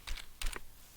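Typing the short CLC command into MATLAB on a computer keyboard: a few crisp, close key clicks in two quick bursts, then a final sharper keystroke, with no voices.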